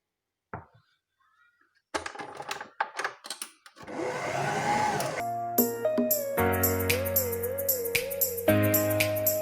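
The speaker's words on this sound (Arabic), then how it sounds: "غادي نديها دابا لا ماشين نعجن هاد المكونات هذه كامله" A kitchen dough-kneading machine starts up and mixes brioche dough, a steady motor hum and whir rising in pitch after a few clattering knocks, loud and close.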